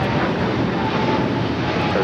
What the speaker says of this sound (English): It's flight 586 taking off to Shanghai